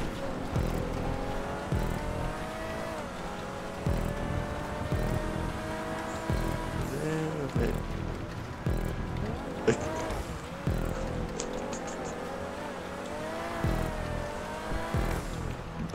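Cars drift racing on a snowy track in a racing video game, steady engine roar with shifting revs and occasional tire squeal, with voices chatting over it.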